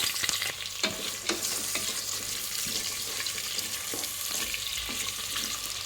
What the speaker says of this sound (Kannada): ಇವಾಗ ಈರುಳ್ಳಿ ಕೂಡ ಫ್ರೈ ಆಗಿದೆ.